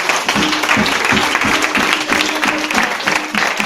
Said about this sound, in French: Acclamons puissamment le Seigneur